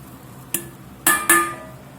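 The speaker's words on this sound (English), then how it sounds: "I'm going to put our beef back in." Beef and garlic dropped back into a cooking pot, three sharp clinks of utensil against the pot, the last two close together.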